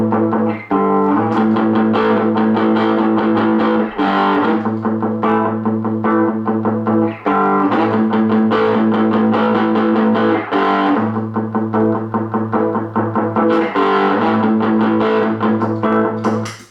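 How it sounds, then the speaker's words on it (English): Electric guitar played through a Boss ML-2 pedal with the SD1 overdrive engaged, loud sustained chords in a chugging rhythm with short breaks between phrases, gritty driven tone, no talking. "I'm gonna engage only overdrive, SD1"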